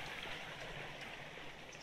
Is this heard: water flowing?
yes